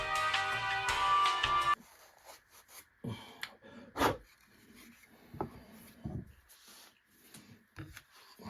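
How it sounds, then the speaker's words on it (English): Steel wool rubbing over a sealed wooden stock on a Browning Auto-5 16 gauge shotgun, a loud burst of scrubbing at the start followed by intermittent, quieter strokes and scrapes. "steel wool on throughout all the surfaces, and I'm knocking these burrs down"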